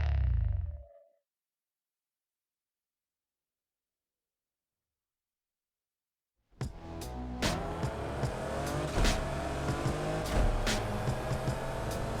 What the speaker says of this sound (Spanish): El coche tiene una potencia fuera de serie.